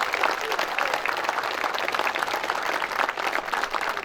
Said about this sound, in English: Round of applause for those administrators,